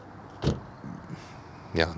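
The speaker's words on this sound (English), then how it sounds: "the good door closing sound." Door of a 2022 Mercedes-AMG SL 63 convertible closing, a couple of soft thuds and a latching clunk near the mic, with a person talking around the sounds.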